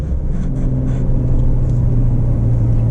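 A Porsche 992 4S Convertible in Sport Plus mode on side roads, its engine a loud, steady low rumble that builds slightly in the second half, close and continuous with no talking.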